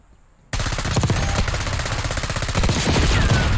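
Sustained rapid automatic gunfire in the video game Black Ops 6, a loud dense burst that starts abruptly and rattles on without pause.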